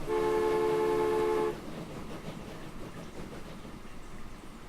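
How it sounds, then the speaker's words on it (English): A locomotive whistle in a train simulation game sounds one long, loud, steady harmonic blast for about a second and a half, then cuts off to a low rumble of rolling rail noise. "that whistle's kind of loud"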